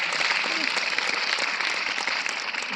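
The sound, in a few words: audience applause at a conference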